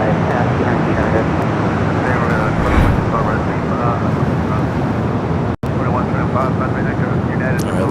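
An airliner arriving at LAX airport, a loud steady jet roar close by with broad rumbling noise throughout, joined by faint radio voices.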